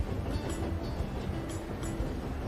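A train rolls along the tracks in the game Tiny Rails, a steady dense rumble with faint rhythmic clacks, continuous and even throughout with no talk.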